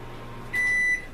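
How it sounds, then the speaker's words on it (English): A single steady electronic beep from a microwave oven, lasting under half a second, over a quiet room hum. "That's my microwave at the 2-minute mark."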